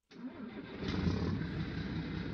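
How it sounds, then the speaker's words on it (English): Grain truck engine in Farming Simulator 19 cranks and fires up, then settles into a steady mid-pitched idle, close and continuous with no talking. "Time to fire up the grain truck."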